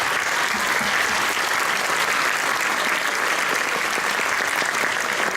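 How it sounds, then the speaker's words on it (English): Sustained, dense audience applause fills the whole stretch at a steady, loud level, heard at a winter school concert, with no voices rising above it. "if we could give them a round of applause"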